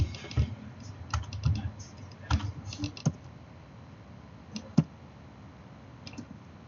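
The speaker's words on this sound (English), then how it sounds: "So let's type in something very quickly." Bursts of typing on a computer keyboard, quick clusters of key clicks with short pauses between them, close and clear with no talking.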